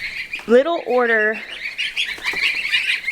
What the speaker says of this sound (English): our order of goslings got in